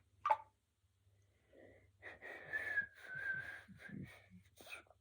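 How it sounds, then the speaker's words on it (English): Someone makes a faint, breathy attempt at whistling, a wavering airy tone that sputters among soft breaths and small mouth noises after a brief click. "Can't really whistle."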